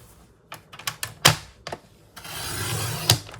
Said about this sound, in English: And then I'll turn it and cut it at 5 1/2 inches.